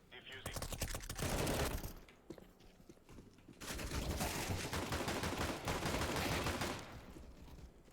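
Rapid pistol gunfire in a video game, bursts of sharp shots packed closely together in two loud stretches separated by a brief lull, with some game noise in between.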